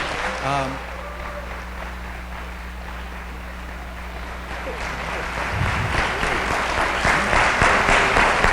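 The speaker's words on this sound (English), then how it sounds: "Can we give them a round of applause?" Conference audience applause swells gradually, starting faint after a short spoken moment and growing into steady clapping toward the end, with a low background hum throughout.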